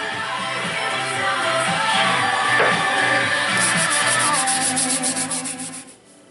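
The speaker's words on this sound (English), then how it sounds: "moving up to 150 grit." Steady rasping strokes of 150-grit sandpaper rubbing against wood, close and continuous, speeding into quick short scrubs before stopping.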